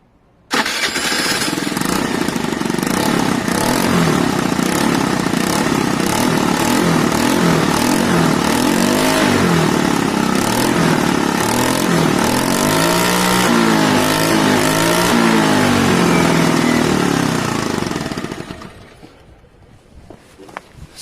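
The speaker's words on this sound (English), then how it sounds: "Let's see if it fires up again." A Piaggio Fly 50cc scooter engine fires up and runs steadily for about seventeen seconds, a loud, close buzzing idle with slight revving swells, then cuts off abruptly and falls quiet.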